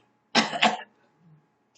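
A person imitates a cough: one short, rough double burst close to the listener, followed by quiet.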